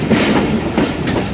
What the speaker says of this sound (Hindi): ट्रेन पहुंच रही है लोधरा जंक्शन रेलवे स्टेशन पर